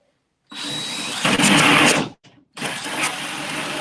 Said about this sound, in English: Our drill's right here. Might as well cut it out.